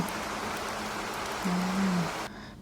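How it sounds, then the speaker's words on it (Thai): Steady rain hiss played as an iPhone background sound through AirPods Pro 2, even and continuous, with a voice briefly humming over it before the rain cuts off abruptly near the end. "ตอนนี้ก็ ได้ยินเป็นแบบว่าเสียงฝนนะคะเสียงฝน"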